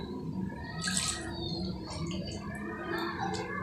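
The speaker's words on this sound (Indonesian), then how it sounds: "Selanjutnya kita akan menuang air ke dalam mangkok ini sebanyak setengah ini ya." Water is poured into a bowl, a soft trickling and splashing with small drips, faint and close in a quiet room.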